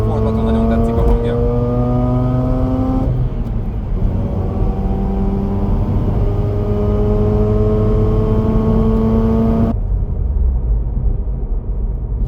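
A Mazda RX-8's rotary engine is held at high revs with a loud, smooth, buzzing drone. The pitch dips briefly, climbs again and holds steady, then the sound cuts off abruptly.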